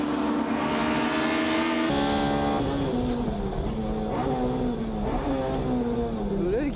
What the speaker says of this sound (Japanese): さあ残り1周、折戸 S2000 は追いつけるのか